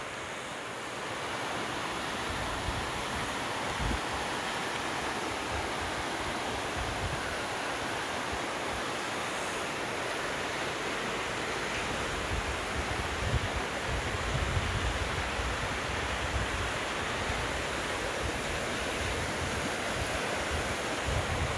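Ocean surf washes continuously up the shore, a dense, steady roar with wind buffeting the microphone and no speech throughout.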